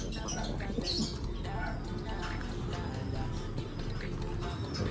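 Pigeons coo softly and steadily at close range while drinking water, with faint chirps and occasional wing flaps over a constant low background hum.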